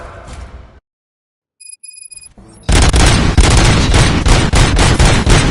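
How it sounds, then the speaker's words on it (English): Video game gunfire from Bleach Rebirth of Souls: after a brief silence and a few electronic beeps, a loud, dense burst of rapid repeated shots erupts and keeps going. "Gunshots? What's going on?"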